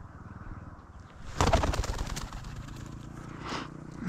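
Pigeons during outdoor dog training: a burst of wing flapping and fluttering rises sharply mid-clip, with soft cooing and bird calls around it and a brief second flutter near the end.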